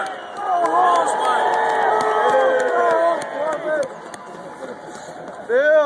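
Crowd at a Groundhog Day celebration at Gobbler's Knob in Punxsutawney cheering and hollering in welcome for the governor, a loud, sustained roar of voices that dips toward the end.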